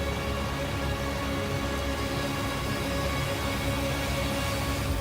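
Heavy rain falling on an umbrella as a dense, steady hiss of drops, loud and continuous with no voices.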